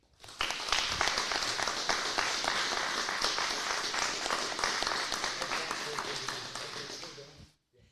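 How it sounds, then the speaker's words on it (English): Audience applause at a county commissioner candidate forum in Shoshoni, a dense, steady wash of clapping from a room of people that holds evenly for about seven seconds before stopping abruptly. "I welcome the audience to give these candidates a round of applause now."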